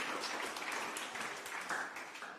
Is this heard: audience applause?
yes